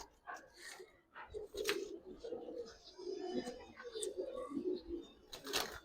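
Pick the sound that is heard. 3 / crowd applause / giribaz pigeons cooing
giribaz pigeons cooing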